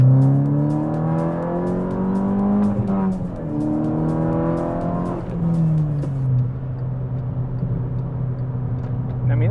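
An MK6 Volkswagen GTI fitted with a CTS turbo downpipe accelerates hard from inside the cabin, the engine droning and climbing through gears with pitch drops at each shift, steady and fairly loud.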